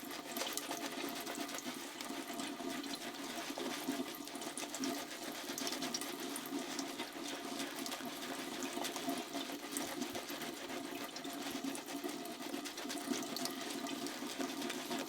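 Water runs steadily from a tap into a sink while shaving with a lathering soap, a constant soft hiss and splash at close range with no break.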